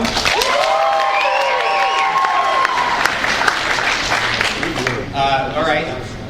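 A convention panel audience at Star Wars Celebration Anaheim bursts into loud, sustained applause, cheers and whistles as they vote for President Snow, swelling again near the end.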